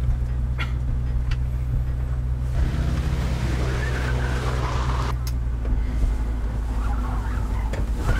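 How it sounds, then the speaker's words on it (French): Continuous engine drone and road rumble of a car in pursuit, a loud steady low roar across the whole stretch with shifting whooshes as it changes speed, heard close and without speech. "Une voiture qui nous poursuit, chef."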